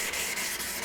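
A steel card scraper laid flat on a sharpening stone and rubbed back and forth to hone its face, giving a steady, close abrasive rasp with brief dips at the stroke reversals.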